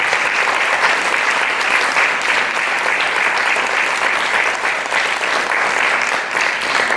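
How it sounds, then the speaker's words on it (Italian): An audience at an International Day of the Midwife event applauds, a dense, loud, steady clapping that fills the whole stretch without a break. "Con un applauso fate voi stessi."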